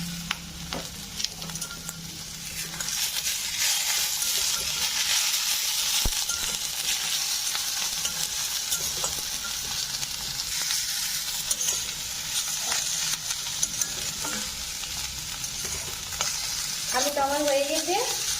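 Boiled potato stir-fry sizzles steadily in a pan, with occasional scrapes and clinks of a spatula stirring through the pieces; a close, continuous frying hiss throughout with no talk.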